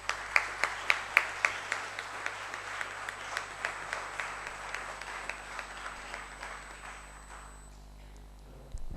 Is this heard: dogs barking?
no